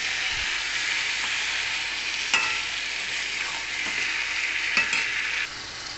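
Chicken stir-fried with spices in a pan, a loud close-up sizzle hissing steadily while a spoon scrapes and turns the meat in occasional strokes; no voices.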